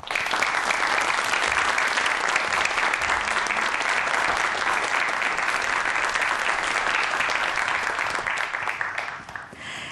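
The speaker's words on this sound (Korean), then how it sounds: "큰 박수로 환영해 주세요" Studio audience clapping steadily to welcome a speaker onto the stage at a Korean science lecture, dense sustained applause close and loud throughout, fading slightly at the end.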